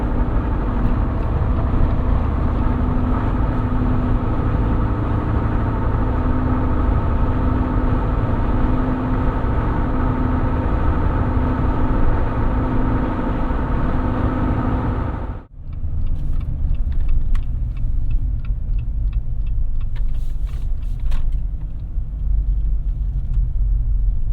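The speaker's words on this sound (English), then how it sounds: "we'll drop her down to fifth. Now I can actually accelerate." A 2022 Jeep Wrangler Unlimited Willys accelerating in fifth gear, heard from inside the cabin: a loud, steady engine and road rumble, briefly dipping once before carrying on.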